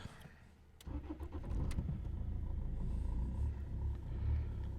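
A Rover 75 car drives along a road, its engine and tire rumble rising after a brief quieter start and holding steady and close, with a few faint clicks early on.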